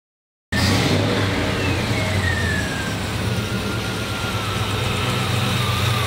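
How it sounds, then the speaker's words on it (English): A 1957 Ford Ranchero engine with a misfire from a cold number one cylinder runs steadily and close by, rumbling with an uneven idle and no talk over it. "Hence the misfire."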